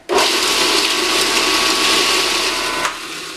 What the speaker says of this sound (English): you're going to turn it on, and then you're going to slowly drizzle the olive oil in there